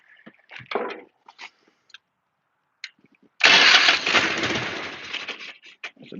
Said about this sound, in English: That's the best goddamn starter I've ever had in my life right there, buddy.